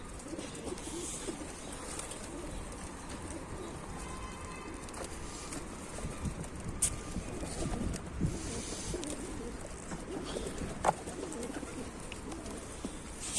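Pigeons cooing softly after being released from their loft, low repeated coos over a steady outdoor background with a few faint knocks, no talking.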